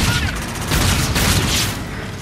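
Loud, close gunfire in a Call of Duty Infinite Warfare multiplayer match: sustained overlapping bursts and booming shots roll on without pause, forming a dense, heavy barrage.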